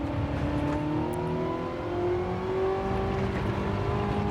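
A Ferrari 430 Scuderia engine accelerates in Gran Turismo 7, a loud, steady high-revving drone with rising pitch that holds continuously throughout, with no talk over it.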